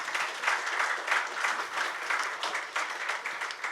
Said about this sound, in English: Have a round of applause for the people over here.